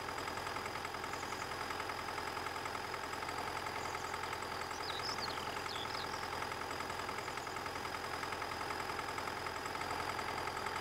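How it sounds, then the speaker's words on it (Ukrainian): A roughly 100-horsepower tractor engine labours under load in Farming Simulator 19 with a realistic-physics mod, a faint, steady droning hum that holds constant without change for the whole stretch. "Ну, двигун під нагрузку."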